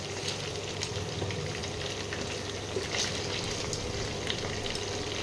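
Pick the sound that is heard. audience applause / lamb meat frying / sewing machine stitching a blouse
lamb meat frying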